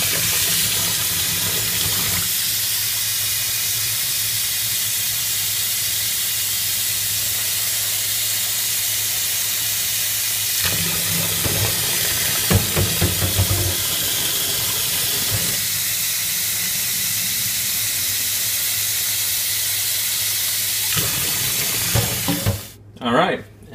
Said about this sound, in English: take your bottles and fill them up with the hot water and then submerge them